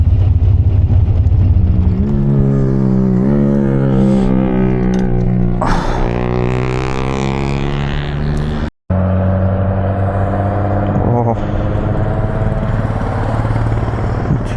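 A Nissan GT-R sports car engine revving loudly and close, pitch climbing and falling through several strong rises, with a brief cut-out before the engine note resumes.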